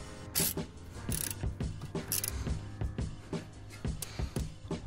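Close, rapid ratcheting clicks come from a 5 mm Allen bit tightening the rear brake disc fixing screw on an Alfa Romeo Giulietta, in uneven bursts of clicks mixed with a few sharper metallic taps.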